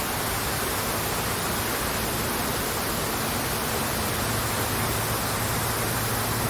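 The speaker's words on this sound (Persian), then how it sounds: "اینقدر صدای آبشار زیاده که احتمال داره صدای منو خوب نشنوید" A park waterfall roars as a loud, dense, constant wash of falling water with no breaks.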